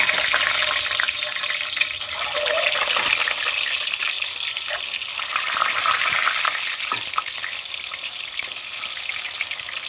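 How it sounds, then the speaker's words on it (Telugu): Boiled eggs fry in hot oil with turmeric in a pan, giving a steady, loud crackling sizzle with bursts of spitting throughout. "అందులో కొంచెం పసుపు వేసుకొని ముందే ఉడికించుకున్న గుడ్డలు వేసుకుని వేయించుకోవాలి."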